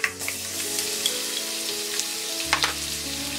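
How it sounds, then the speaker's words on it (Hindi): Crushed garlic and asafoetida dropped into hot oil with crackling mustard seeds, a loud continuous frying hiss with a brief spatter at the start and a few clinks of a utensil, close up and without talk. "मस्टर्ड सीड्स क्रैकल होने के बाद हम डालेंगे ये हींग, क्रश्ड गार्लिक"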